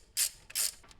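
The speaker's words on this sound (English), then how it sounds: "I sure like these ratchets that swivel and stuff like this." Swivel ratchet wrench turning a fastener during transmission service on a John Deere compact tractor: two short, crisp ratcheting bursts, close by and loud, with a brief quiet gap between them and no talk.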